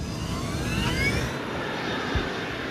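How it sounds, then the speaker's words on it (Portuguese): Malaysia Airlines flight 370 airliner accelerating down the runway for a midnight takeoff, a loud steady jet engine roar filling the scene throughout with a brief low thump near the end. "A tripulação monitora a velocidade ao acelerarem pela pista."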